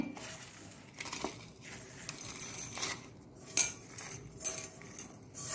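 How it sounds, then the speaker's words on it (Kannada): Cooled cooked ingredients for a Mangalorean ladies finger sambar are tipped and scraped into a mixer grinder jar, giving soft clattering, rustling and a sharp clink partway through, close by with no talking. "ಈಗ ಇದನ್ನೊಂದು ಮಿಕ್ಸಿ ಜಾರಿಗೆ ಹಾಕೊಳ್ಳೋಣ. ಇಲ್ಲಿ ಮಿಕ್ಸಿಗೆ ಹಾಕೊಳ್ತಿದ್ದೇನೆ."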